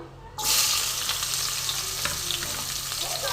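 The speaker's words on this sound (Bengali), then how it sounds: "আমি একটু পেঁয়াজ কুচিয়ে রেখেছি, সেটা আমি দিয়ে দিচ্ছি। বেশ খানিকটা পেঁয়াজ কুচানো" Chopped onions for a spicy fish curry go into a hot pan and a strong, close sizzle starts at once, then holds as an even, loud frying hiss.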